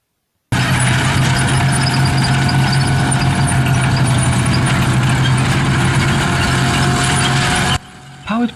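Heavy rumbling engine of a Tiger I tank, its Maybach HL230 V12 running steadily and loud with a low droning throb and broadband clatter, then cutting off abruptly near the end.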